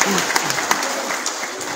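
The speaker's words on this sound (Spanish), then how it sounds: "Vamos a recibirlo con fuertes aplausos." A crowd gives strong, dense applause to welcome a representative of the Education Commission at a formal gathering. The clapping is loud and continuous throughout the short stretch.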